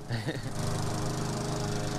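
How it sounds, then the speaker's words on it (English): A lawn mower engine runs steadily and fairly close during a cross-country grass-mowing trip in Alaska, giving a continuous buzzing drone for about two seconds. "So why all the cross-country grass mowing?"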